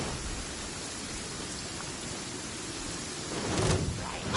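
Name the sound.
rain falling in a PS4 video game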